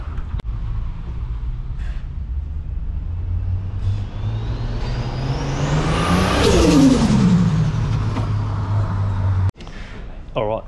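A turbocharged Ford AU Falcon engine revs upward with a rising whine and repeatedly hits fuel cut, then drops off abruptly, heard close with voices talking over it.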